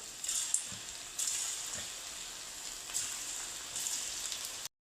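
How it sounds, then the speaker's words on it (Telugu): Cauliflower pakoda batter is dropped into hot frying oil, giving a steady close hiss and sizzle. Sharper crackling bursts flare up as each new piece goes in, repeating about four times. "ఇప్పుడు ఇందులోకి పకోడీని వేసుకుందాం నార్మల్గా ఉల్లి పకోడీ ఎలా వేస్తారో దీన్ని కూడా అలానే వేసుకోవాలి"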